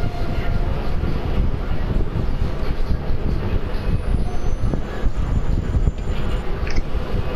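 A train in Red Dead Redemption 2 rumbles along steadily with dense, continuous wheel and carriage noise, faint squeals riding on top, loud and close throughout.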